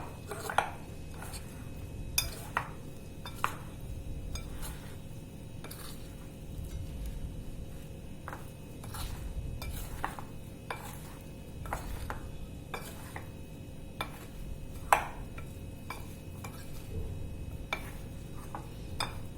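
Jackfruit pieces being mixed with masala in a bowl, giving soft, scattered clinks and taps of utensil against the bowl, with faint wet stirring underneath, quiet and close.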